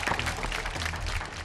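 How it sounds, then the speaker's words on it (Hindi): Game show audience in Bhagalpur applauding after a correct answer, a steady, moderately faint wash of clapping that runs without a break through the short moment. "तालियां।"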